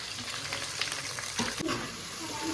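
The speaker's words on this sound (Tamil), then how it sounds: "வெங்காயம் பூண்டு கருவேப்பில நம்ம எல்லாம் சேர்த்துருக்கோம் இது நல்லா வதங்கட்டும்" Onion, garlic and curry leaves frying in hot oil, a dense continuous sizzle up close with a few soft stirring scrapes partway through, and no voices.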